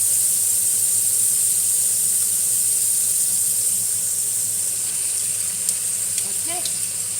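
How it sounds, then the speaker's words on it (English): Sauce and rice noodles for Pad Mee Korat sizzle steadily in a pan, a continuous bright frying hiss with a few faint stirring clicks near the end. "So you can see that the sauce is cooking slowly. So I'm going to put the noodle in."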